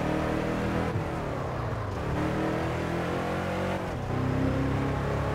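Car tires skidding and scrubbing in the racing video game Test Drive Unlimited 2, a continuous loud rushing hiss layered over engine drone, as if the wheels were locked and the car sliding.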